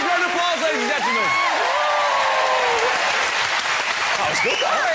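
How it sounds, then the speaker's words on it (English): Studio audience applause on a television family quiz show, steady clapping from a crowd with a host's voice speaking over it almost the whole time. "give her a big round of applause, ladies and gentlemen"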